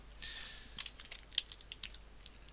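Quiet, steady typing on a computer keyboard while coding a Unity 3D game shop, with soft irregular key clicks and a few slightly louder taps over a faint room hum.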